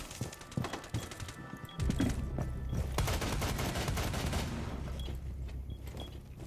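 Pistol fire in Rainbow Six Siege, heard as a run of quick sharp shots under dense in-game noise and rumble, fairly loud and close throughout.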